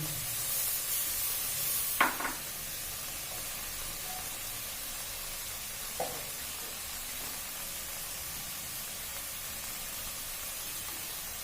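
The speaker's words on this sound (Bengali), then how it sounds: "সামান্য জলও দিয়ে দিচ্ছি।" A little water goes into a hot pan of pointed gourd cooking with milk and poppy seed. It makes a steady, soft hiss of sizzling and steam, broken by a couple of brief clatters, with no voices.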